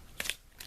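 Lenormand cards cut by hand into three piles, a couple of quick crisp riffling snaps close up, then a softer brief rustle a moment later.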